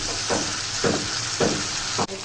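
Flat beans and potatoes sautéing in a pan, a steady close sizzle with four brief scraping stirs at roughly even intervals, no voices.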